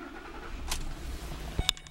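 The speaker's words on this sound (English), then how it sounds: "Okay, let's turn on the car." A 2008 Lincoln Navigator Ultimate starting up: a brief click and quick crank with a short engine catch near the end, heard from inside the cabin, quiet and close.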